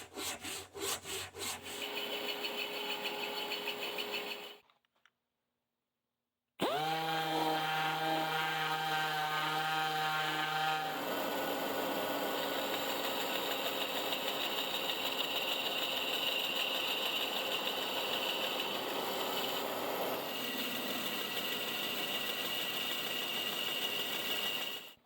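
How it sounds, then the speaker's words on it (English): A wooden piece is thinned down to size on a powered drum sander, with a loud, steady grinding rasp that pauses for a few seconds of silence. The machine then spins back up with a rising whine and keeps droning close by. "So now we'll thin this down to size on our super sander"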